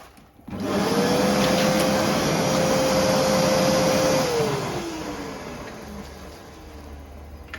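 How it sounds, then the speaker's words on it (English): A vacuum cleaner sucking up stones through its nozzle roars loudly with a steady whine, then its pitch drops as it winds down; a broad hiss of suction throughout. "Had the nozzle on and it's sucking up all the stones."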